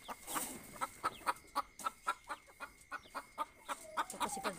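A hen clucks repeatedly in a steady, evenly spaced rhythm of sharp close calls, a long run of pulses with a drawn-out note near the end.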